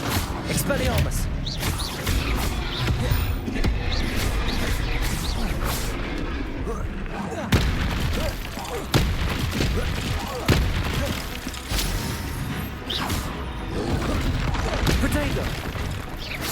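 A spell being cast in a Harry Potter video game, heard as dense, busy game audio with repeated thumps, whacks and crash-like bursts over a steady bed of sound, mixed with voices.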